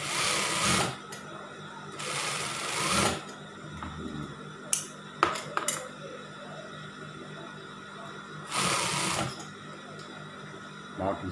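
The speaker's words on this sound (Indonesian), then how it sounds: "lengannya mau di jahit juga bisa ya" A sewing machine stitches the sleeve of a women's scout uniform, running in bursts of a second or two separated by pauses and small clicks, close and moderately loud.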